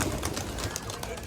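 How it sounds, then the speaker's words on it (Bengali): Several pigeons of varied breeds, one pastel-coloured, coo in soft repeated throaty pulses nearby, close and fairly quiet, with faint background voices. "কত রকম কবুতর আছে।"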